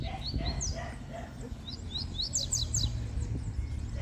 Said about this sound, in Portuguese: Canta muito, canta bastante esse passarinho.